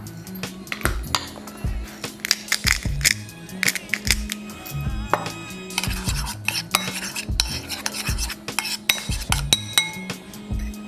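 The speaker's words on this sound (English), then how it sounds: "I'm gonna just give it a quick little mix" A utensil stirring a mayo sauce mix in a bowl, close with repeated scraping clinks and taps in an uneven rhythm, no talking.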